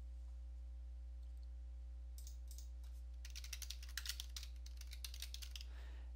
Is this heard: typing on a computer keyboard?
yes